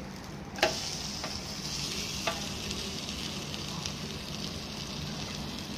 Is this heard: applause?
no